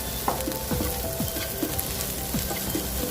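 Chili being stirred into frying onions for a spicy crab roast, with a steady, dense sizzle and occasional spoon scrapes against the pan, close and continuous.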